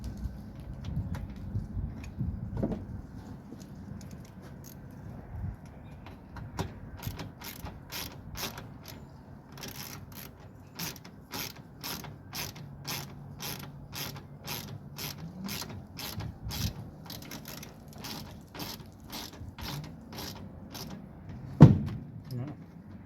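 Bolts tightened with an Allen key during furniture assembly give a faint, close series of small ratcheting clicks and metal turns in a steady run, with handling noises and occasional soft talk.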